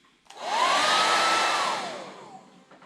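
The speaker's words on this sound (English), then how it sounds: "let's break out our blow dryer" A handheld blow dryer kicks on with a rising whoosh, holds a loud, steady airy roar with a whining motor tone for about two seconds while warming a firearm, then winds down and clicks off.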